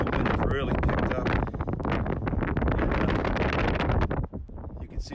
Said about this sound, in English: Once I got up here to the top, boy, I'm above tree level, and the wind has really picked up.